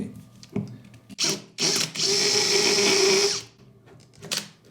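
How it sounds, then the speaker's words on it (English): A power drill bores a pilot hole into timber in one sustained high whine lasting about a second and a half, framed by brief handling knocks and short bursts before and after. "we're going to drill right there where they meet"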